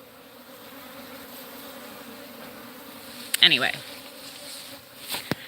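Bees buzzing around ripening fruit in a late-May home garden, a steady low hum with a louder pass of a bee close by partway through, plus a brief spoken word near the start.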